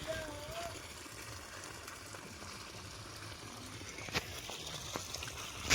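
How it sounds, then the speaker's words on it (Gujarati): Water gushes out steadily near a lighthouse garden on the coast, a continuous rushing wash running throughout with a few brief louder splashes near the end. "અહીંથી પાણી જાય કેટલું બધું પાણી જાય છે"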